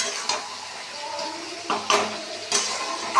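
Spice mixture being stirred and fried in oil in a pan, soft continuous sizzling with a few sharp scrapes and clinks of the spatula against the metal.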